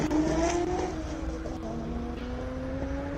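A Nissan race car at the Simola hill climb revs hard and pulls away from the start line, its engine note rising in steady harmonic sweeps, loud and close with no talk over it.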